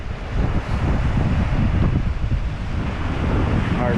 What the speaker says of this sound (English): we're going into the wind